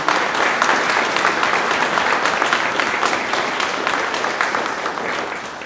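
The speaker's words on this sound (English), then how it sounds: "How about a round of applause for Ozark Overland Country?" A crowd at an expo gathering gives a loud, continuous round of applause, dense overlapping clapping that stays strong throughout and tapers only slightly at the end.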